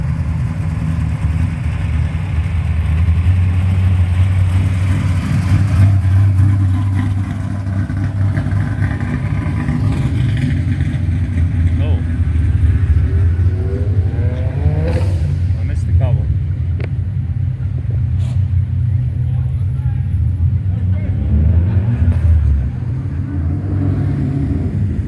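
A turbo Chrysler Valiant at a car show rumbles loud and close with a continuous engine drone that swells and eases as it revs, with voices talking over it.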